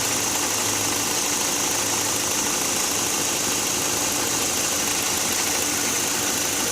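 A car engine runs steadily during an injector and misfire check, giving a constant loud mechanical drone with a bright hiss and no clear breaks or pauses.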